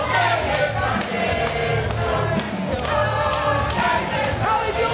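A wrestling crowd roars for David Francisco in a packed building, a steady, loud wall of cheering and applause with rising swells throughout.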